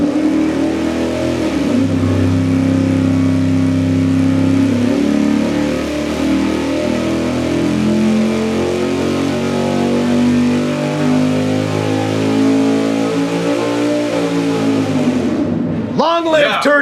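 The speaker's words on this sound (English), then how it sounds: "let's fire it up and run the Brodix intake manifold." Big-block V8 fitted with a Brodix intake manifold running on an engine dyno, a loud, continuous roar held for about sixteen seconds as its pitch shifts and then drops away abruptly at the end.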